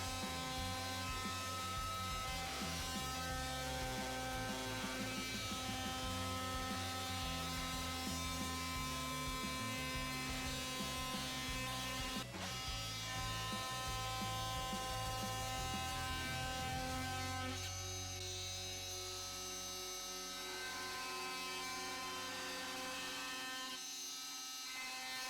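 Milwaukee M12 FUEL cordless oscillating multi-tool cutting through sheetrock, a steady loud buzzing drone with a grinding rasp that runs nearly half a minute before the motor note drops and winds down near the end.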